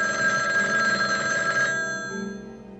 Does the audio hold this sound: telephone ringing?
yes